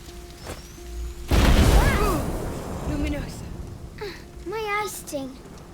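Luminosa alchemical grenade from A Plague Tale: Innocence bursting among a swarm of rats: a loud broadband blast with a crashing flare of noise, followed by scattered squeals and tonal cries, with voices speaking nearby.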